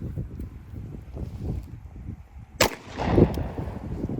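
A single sharp gunshot from a Yugoslavian M57 pistol firing 85-grain full metal jacket 7.62x25mm Tokarev at an Austrian M75 steel helmet, a loud crack rising out of low wind rumble, with a brief rustling tail afterward.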